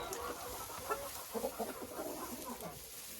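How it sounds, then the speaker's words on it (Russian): Egg-laying hens cluck softly and intermittently at close range in a farmyard coop, with scattered short clucks over a constant noisy background. "Это куры будут уже кушать."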